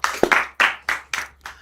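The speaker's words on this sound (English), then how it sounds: "a round of applause for our panelists" Brief bursts of hand clapping for panelists at a Kenyan political discussion forum, about five separate sharp claps spaced unevenly, close and moderately loud rather than a sustained ovation.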